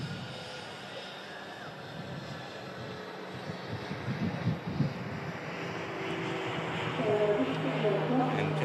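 A jet airliner, an A321neo-type aircraft, touches down and taxis at an airport, heard as a steady, building engine roar and whine from mid-distance, growing louder toward the end under a live plane-spotting commentary.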